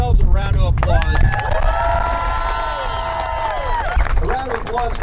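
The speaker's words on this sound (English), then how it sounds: "Folks, give yourselves a round of applause." Outdoor crowd in a parking lot at a house panel-building event cheers, whoops and applauds, a long sustained cheer with a voice held over it, amid steady crowd noise.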